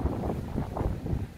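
Strong gusting wind buffets an open, shallow stretch of water during a storm while fishing with a spinning rod, a steady rough roar with low thumps of wind hitting the microphone, no one speaking.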